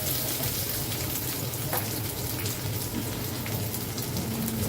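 Chopped onions added to browned garlic cloves frying over high flame in a pan, a loud, dense, rain-like sizzle that runs continuously and close up with faint stirring beneath.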